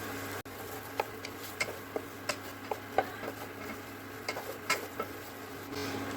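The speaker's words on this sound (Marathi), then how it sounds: "तुपामध्ये 2-3 इलायची, आणि खोबऱ्याचा बारीक किस घालून त्याला चांगलं परतवून घेऊया." Cardamom pods and finely grated coconut sautéed in ghee for modak filling make a soft, quiet sizzle, broken by irregular light taps and scrapes of a spoon stirring in the pan.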